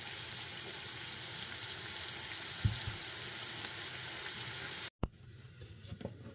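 Eggplant frying in a pan gives a steady, close hiss of sizzling oil, with a few soft clunks as pieces go in and a brief cut near the end before the frying carries on more quietly.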